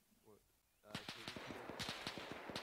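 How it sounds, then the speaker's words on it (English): Rapid bursts of gunfire in a military video game, sharp repeated cracks coming fast and loud after a quiet start, with people talking over them. "We're getting shot at!"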